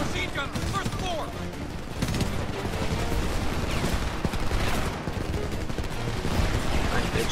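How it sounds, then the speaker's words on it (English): Machine gun fire in the Homefront shooter runs as a dense, steady stream of rapid shots that stays loud and close the whole time, with voices talking underneath it. "Machine gun, first floor."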